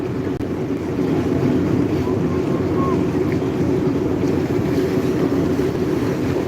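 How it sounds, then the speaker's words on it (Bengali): Strong wind and choppy waves sound on the river at the Daulatdia–Paturia ferry crossing as a loud, steady roar with continuous wind buffeting of the microphone. "দেখুন নদীতে অনেক বাতাস ঢেউ"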